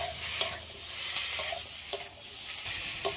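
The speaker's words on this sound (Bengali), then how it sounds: "সবগুলোকে একসাথে ভালো করে একটু নেড়ে নিয়েছি" Tomatoes and green chillies are stirred together in a hot pan while cooking a fish curry, a soft scraping stir over a steady sizzle, close and continuous with no talk.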